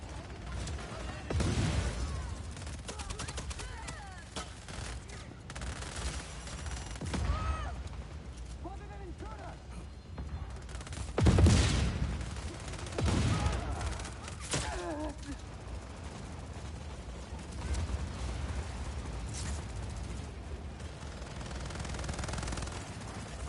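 Bursts of gunfire in the video game Just Cause 4 crackle at moderate distance, under and between talk, with a louder impact burst partway through.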